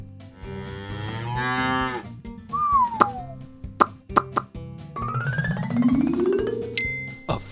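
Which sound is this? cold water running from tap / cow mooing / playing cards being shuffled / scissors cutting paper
cow mooing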